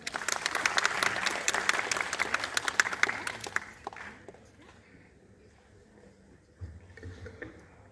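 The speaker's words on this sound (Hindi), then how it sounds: "कृपया जोरदार ताली से स्वागत" Loud audience applause at a university film festival welcomes Uttar Pradesh's chief wildlife official, dense clapping for about four seconds before fading into quiet room noise with a faint voice near the end.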